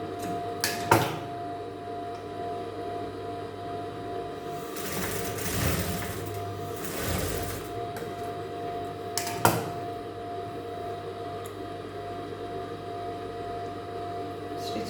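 A sewing machine stitches a cross piece onto fabric, humming steadily at close range for about fifteen seconds, with a louder whirring burst in the middle and a few sharp clicks, with no voices.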